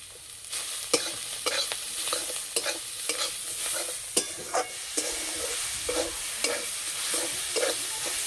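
Shredded cabbage frying in a pan with ground cumin, chili and turmeric powder, a spatula scraping and clicking against the pan in an irregular stirring rhythm, close and steady, with no talk.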